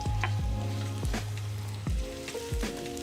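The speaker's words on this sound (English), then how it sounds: "So now we just go ahead and add our onions." Onions frying in olive oil in a pan, a continuous close crackling sizzle with several soft stirring scrapes and knocks at intervals.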